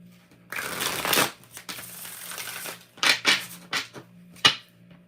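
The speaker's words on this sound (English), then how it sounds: "I love the way this deck shuffles." A tarot card deck is shuffled close up: a long riffling burst, a softer stretch of sliding cards, then several short sharp riffles and snaps, with no speech over them.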